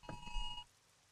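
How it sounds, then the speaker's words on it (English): An in-game phone Amber alert in 7 Days to Die (Undead Legacy mod): a brief, faint two-tone electronic beep lasting about half a second, steady and thin, ending abruptly into quiet. "just got an Amber alert that came in on the phone there"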